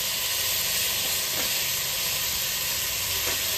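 Finely chopped potato and brinjal go into a hot pan for sprouted-bean sambar, raising a loud, dense, continuous sizzle with steady hissing close by, uninterrupted and with no talk.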